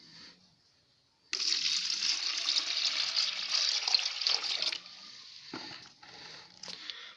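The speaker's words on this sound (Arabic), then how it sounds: "نحطها في السقاية، شوية مية صغيرة" Water pours steadily into a pigeon drinker with a bright splashing hiss for several seconds, then slows to a softer trickle.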